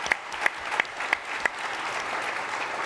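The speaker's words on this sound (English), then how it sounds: "let's applause" Audience applause at an education summit, broad steady clapping with a few louder sharp claps near the start, then a dense even wash of hands until the end.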